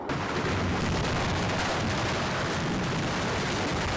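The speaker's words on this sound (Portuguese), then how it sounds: "As explosões começaram por volta das 9 da manhã e duraram 2 horas." Fireworks stock in a burning fireworks shop in Salvador goes off in a dense, unbroken barrage of crackling blasts and booms. The roar stays loud and constant throughout, with no voices.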